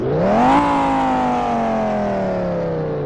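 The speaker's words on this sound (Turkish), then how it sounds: "ara gaz." A loud engine revs up sharply, then its pitch slowly falls away as it winds down, one long continuous roar from a car in the game Driving Empire.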